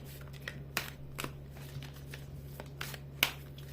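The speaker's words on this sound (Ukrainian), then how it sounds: "не зовсім зручно тасувати" Playing cards being shuffled by hand indoors, a series of soft, crisp riffling snaps at irregular intervals over a low steady hum, fairly close and quiet.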